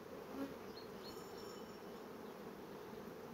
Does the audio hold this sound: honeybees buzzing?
yes